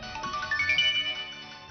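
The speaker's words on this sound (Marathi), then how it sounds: "कोणाचा फोन ग?" A phone rings with a short, bright electronic melody, clear and fairly loud, heard alone for under two seconds in a domestic scene from a Marathi TV serial.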